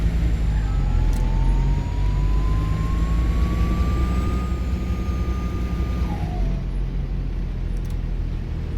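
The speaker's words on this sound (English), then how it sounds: "Gearbox sounds on this thing are so funny" Optare Solo bus in OMSI 2 on a Yorkshire route, a steady loud engine drone with a whining gearbox tone slowly rising in pitch before it drops sharply near the end, no talk.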